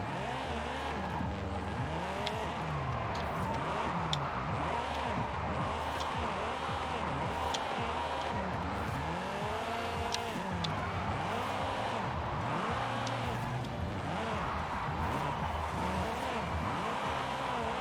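A 1993 Nissan 240SX S14 drift build with about 800 horsepower revs hard in Forza Horizon 5, engine pitch sweeping up and down repeatedly through gear changes, with tire squeal under the loud continuous engine noise.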